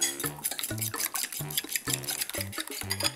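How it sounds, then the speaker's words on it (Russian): A spoon stirs and scrapes through thick meatball and bean soup in a pot, with quick clinking taps against the metal sides in a busy rhythm. "Перемешиваю ложкой."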